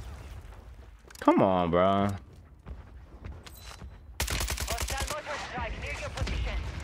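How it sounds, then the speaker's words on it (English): Mortar strikes and gunfire in the video game Warzone on Rebirth Island come as sharp bursts of rapid shots, a dense volley near the end, while a player talks over them and an in-game voice calls out. "Another mortar."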